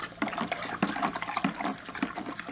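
A fermentation batch with yeast being stirred, a close, quiet swirling and sloshing of liquid with small splashes in an irregular rhythm.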